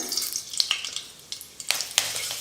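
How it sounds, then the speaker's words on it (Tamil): Mustard seeds pop and sizzle in hot oil, a faint crackling bed punctuated by several sharp little pops scattered through the moment. "எண்ணெய் நல்லா சூடேறினதும் கடுகு கொஞ்சம் சேர்த்துக்கிறேன்"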